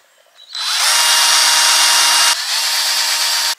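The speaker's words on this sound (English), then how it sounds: "So I've made a little divot, just so I've got somewhere for my drill to go." A power drill bores holes into the wooden roof of a cabin, a loud, close, high whine that runs steadily, breaks briefly, then resumes before stopping abruptly.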